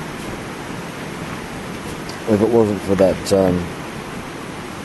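Strong wind roars steadily around a hammock campsite in the Wattagans, a continuous broadband rush like a nearby waterfall, with someone talking briefly over it midway.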